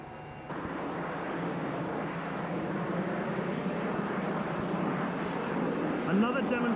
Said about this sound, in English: Another demonstration of this aircraft's great versatility, as Ray Coates comes in for an RBL, short for a rolling vertical landing and takeoff.